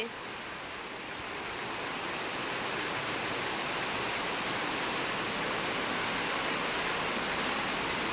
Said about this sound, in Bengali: আমাদের এখানে কি বৃষ্টি হচ্ছে দেখো